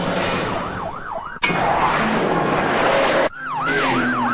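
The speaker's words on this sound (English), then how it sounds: "The shriek of sirens on the quiet night warns the countryside" Wailing police car sirens rising and falling on a quiet night in Georgetown, Kentucky, loud and close, cut by abrupt changes in the background.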